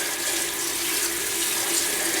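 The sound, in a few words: turkey neck being washed under running tap water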